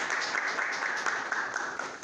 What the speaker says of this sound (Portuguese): palmas para o nosso convidado